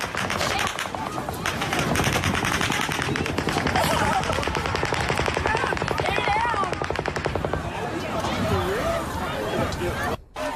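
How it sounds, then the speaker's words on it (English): A second volley of rapid gunfire with sustained dense bursts amid panicked crowd noise and shouting, loud and close, continuing for several seconds before fading near the end. "And there's more gunshots here."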